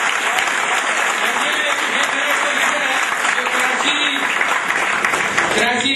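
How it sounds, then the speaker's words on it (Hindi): An audience at a GMI event in Rawalpindi, Pakistan, keeps up steady, dense applause, with hands clapping loudly and evenly for the whole stretch and no talk over it. "ये भरपूर तालियां बजाएं और इसकी हौसला जाएगा"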